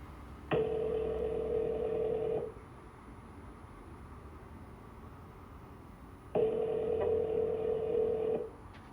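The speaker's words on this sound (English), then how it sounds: "He gives her a call." Telephone dialing tones followed by a ringing call, two long steady electronic rings separated by a quiet gap, clear and alone without any voices.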